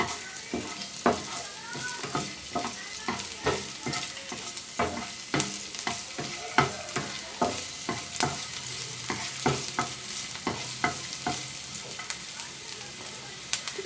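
Grated garlic and ginger fry in a pan with a steady low sizzle, broken by repeated scraping clicks of a spoon stirring, fairly faint and with no talk.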